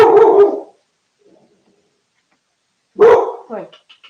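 A dog barks loudly and close by in two separate bursts, the second followed by a few shorter yips, with near silence between them.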